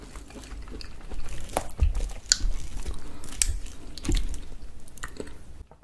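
Close, wet chewing and biting of crunchy, spicy mushrooms mixed with a hot fiery sauce, with irregular crisp crunches and squishy smacks coming steadily, with no talk.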